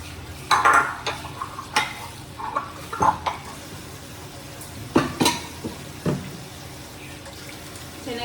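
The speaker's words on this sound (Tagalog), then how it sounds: "Crispy natin ang pork." Pork fat frying until crispy in a pan, with a steady background sizzle broken by a run of sharp clatters and scrapes from stirring. It sounds close and moderately loud, and no one speaks.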